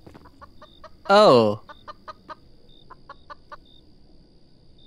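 In the horror game Devour, a chicken lets out one loud, squawking cluck, followed by quieter repeated clucks and clicks; a voice briefly exclaims.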